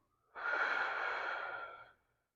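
A single long exhale during yoga breathing comes through the nose or mouth as a steady, breathy rush lasting about a second and a half. It is close and alone, fading out smoothly.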